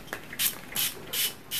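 A spray bottle misting water onto green paint for a painting of a Leghorn rooster, four short hissing bursts in an even rhythm, close and fairly loud with no talking.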